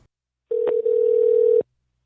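Telephone tone heard when calling the New South Wales Education Standards Authority, a single steady electronic tone lasting about a second with a tiny break near its start, clear and alone.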